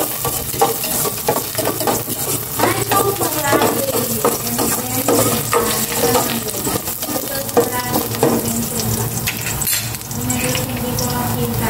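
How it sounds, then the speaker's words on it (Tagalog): Garlic sautéing in plenty of hot oil for pork sinigang, a loud, continuous sizzle with scraping stirs and clinks of a utensil against the pan throughout. "Gisa ko na itong bawang"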